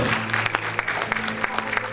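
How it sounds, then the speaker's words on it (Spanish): Rhythmic clapping from a church congregation during a sermon, with sharp individual claps over a steady hum, close and moderately loud. "Denle el aplauso a Jesucristo en esta hora."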